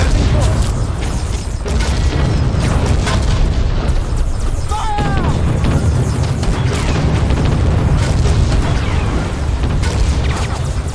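Ship cannons firing in the space-sailing game Treasure Planet: Battle at Procyon, with deep booming blasts rolling continuously under dense mechanical noise, a brief whistling tone partway through.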